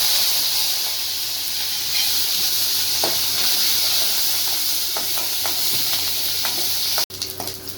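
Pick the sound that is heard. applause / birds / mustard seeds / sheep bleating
mustard seeds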